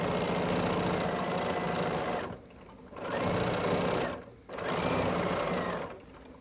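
A sewing machine stitches through quilt fabric in three loud, steady runs of rapid whirring, each stopping abruptly with brief quiet gaps between them.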